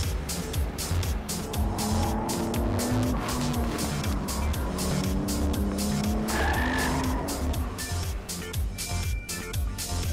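A Nissan Skyline R34 NISMO with its RB26 engine is driven hard through mountain-road bends, its engine note rising and falling with gear changes and tire squeal, loud and close throughout.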